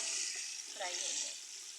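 Whole garam masala fries in hot oil at the start of a chana pulao, giving a steady close hiss and sizzle with a faint brief stir partway through.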